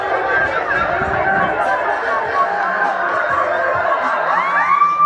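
A large, loud crowd mills after a fight, dense overlapping chatter and laughter forming a constant roar close by.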